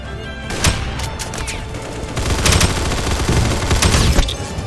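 Rapid gunfire from a Roblox shooter game, a dense fusillade of sharp shots crackling in bursts over nearly five seconds, loud and close with a continuous low rumble beneath.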